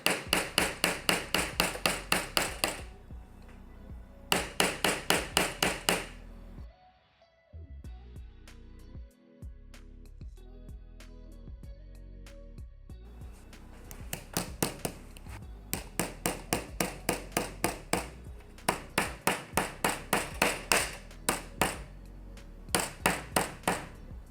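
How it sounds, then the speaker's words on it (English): A hammer strikes the bare screen of a Xiaomi Redmi Note 15 Pro+ phone after its protective film is removed, in quick bursts of crisp, rapid taps separated by short quiet gaps and a few duller knocks. "Once I remove the film and try hammering again"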